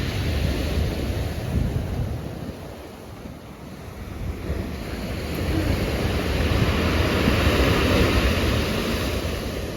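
Sea waves roll onto the beach at Calambrone while sea wind buffets the microphone, a loud, continuous wash of surf and gusty rumble that swells and eases, with no talking.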